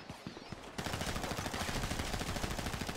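Rapid automatic gunfire from a weapon in GTA 5 Prop Hunt, starting after a brief pause and then running as a steady, dense stream of shots, fairly loud and continuous.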